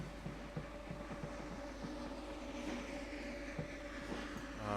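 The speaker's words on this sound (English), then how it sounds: "I hear a train moving." A model train runs on a branch-line layout, giving faint, steady rolling with soft rhythmic clicks over the track joints and a thin motor hum, quiet and continuous with no talking.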